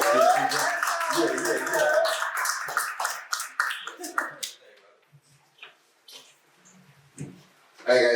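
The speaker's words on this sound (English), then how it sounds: "Y'all gotta clap longer." Audience clapping at an entrepreneurial meet-up in Las Vegas, a burst of claps and cheers from the crowd that fades out after a few seconds, followed by scattered faint sounds and a brief voice.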